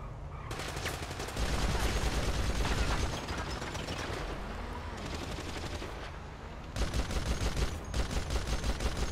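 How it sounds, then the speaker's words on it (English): Gunfire during a shootout in a video game, dense rapid bursts of shots crackling continuously, heavier in some stretches and easing in others, fairly close and loud. "I'm held down by gunfire right now"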